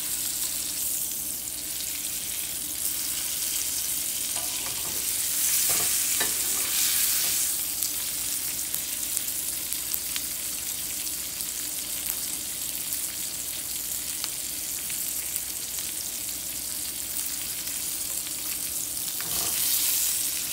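Ahi tuna steak searing in a hot pan, giving a loud, steady frying sizzle that runs unbroken throughout, with occasional soft scrapes and stirring movements.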